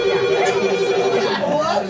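A telephone rings with a steady electronic tone while people talk over it in a room during a meeting.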